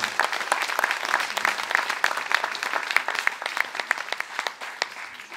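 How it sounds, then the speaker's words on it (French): An audience at a gathering about Eastern Christians in Clamart applauds loudly, with dense, sustained clapping and sharp individual claps standing out, tapering slightly toward the end. "On applaudit très fort leur courage."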